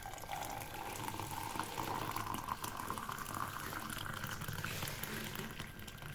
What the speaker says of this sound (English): now the next thing is to add water, hot water